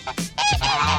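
Geese honk loudly and close by, several harsh, nasal calls overlapping in quick succession.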